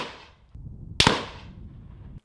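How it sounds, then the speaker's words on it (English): Close-range pistol shots: two sharp, loud cracks about half a second apart, each followed by a short decaying echo, with no talk. "as evident from these pistol rounds up close."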